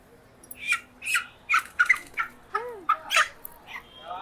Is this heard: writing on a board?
no